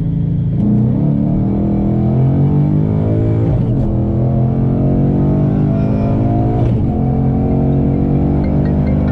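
A Ford Mustang GT with a BBK 90mm throttle body revving hard in a roll from second gear, the pitch climbing in steady sweeps with brief dips at gear changes, loud and continuous up close.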